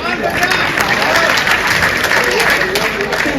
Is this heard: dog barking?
no